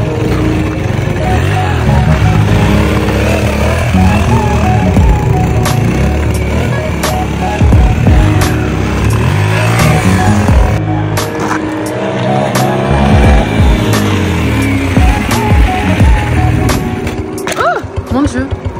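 Beta RR 125 four-stroke motorcycle engine running, a loud buzzing drone that rises and falls with throttle changes, heard close up with someone talking over it.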